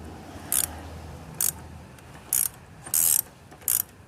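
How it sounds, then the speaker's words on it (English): A ratchet turns an Acura RSX K24A2 engine over by its power steering pulley, giving five sharp, close clicking bursts at irregular intervals over a faint background hum. "So this is how I turn it from the power steering pulley."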